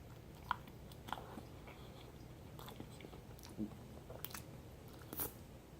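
Quiet crunchy chewing of a refried bean sandwich, with a handful of sharp crisp bites scattered over a soft background hiss.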